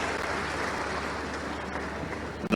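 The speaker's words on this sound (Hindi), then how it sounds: "जोरदार ताली बजाओ नवीन जी के लिए भाई।" Steady applause from an audience at a regional industry conclave in Shahdol, a dense even wash of clapping that holds throughout at moderate level, with a brief thump at the end.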